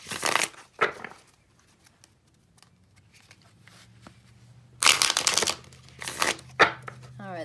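A deck of tarot cards being shuffled in several quick riffling bursts, with quiet pauses and a low background hum between them.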